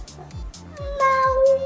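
A voice imitates a cat meowing, a rising then long sustained nasal meow that grows louder toward the end, close up, with brief soft voices in the background.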